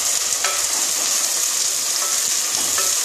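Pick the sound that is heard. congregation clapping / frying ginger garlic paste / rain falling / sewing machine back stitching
frying ginger garlic paste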